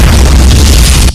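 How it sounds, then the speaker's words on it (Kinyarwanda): Loud, dense booms of film explosions in a gunfight between police and drug dealers, a continuous roaring blast with heavy low rumble that cuts off abruptly at the end. "byakomeye dore ibisasu"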